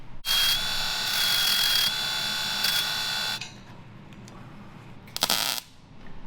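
Bursts of electric welding buzz and crackle while a tube bumper is tacked onto an off-road school bus, with several loud sustained stretches followed by a quieter pause and one short final burst.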